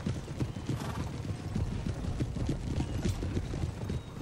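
Cavalry horses gallop in Napoleon: Total War, rapid overlapping hoof clip-clops drumming steadily with occasional neighs and whinnies over a busy battlefield din.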